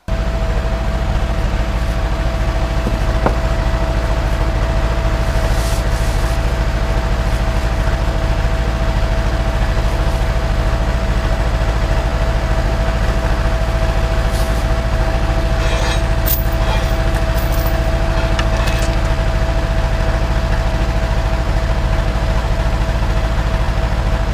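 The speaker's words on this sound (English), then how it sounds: "cue the Kubota to want to go into regen mode" A Kubota tractor engine runs steadily in regen mode, a loud continuous low idling drone with no change in pace throughout, close by.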